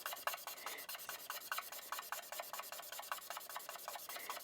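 Spectrum Noir alcohol marker with a chisel nib colouring on paper, a steady, close scratchy rubbing in quick rhythmic strokes, about eight per second, heard alone.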